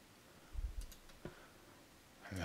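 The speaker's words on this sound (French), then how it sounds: "je clique sur mes zones noires" A computer mouse clicking in a quiet room during photo-editing work: two or three soft, sharp clicks spaced apart, faint and close.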